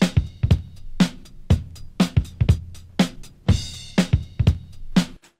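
A live drum recording, warped in Ableton Live to match tempo, plays a loose groove of punchy kick, snare and hi-hat hits with a vintage feel, close and clear with no talking.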